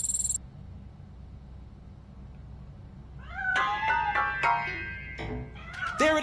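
A cat meows from inside a piano in the video game Robocop: Rogue City; after about three quiet seconds, several clear, close meows follow in quick succession.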